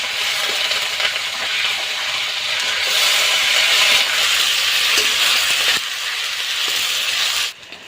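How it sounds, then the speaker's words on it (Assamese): Broiler chicken meat fries in a kadai, a loud, steady close-up sizzle with scraping stirs and small metallic clinks, running without talk until it drops away near the end. "আৰু এতিয়া মই মাংসখিনি কেৰাহীত বহাই দিলোঁ, আৰু এতিয়া অলপ মাংসখিনি ভাজি থাকিব লাগিব।"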